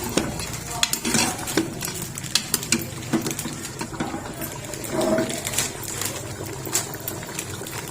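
Mutton frying in ghee in a pressure cooker for nalli nihari, with a steady sizzle under repeated metal clinks and scrapes of a spoon stirring against the pot, close and moderately loud.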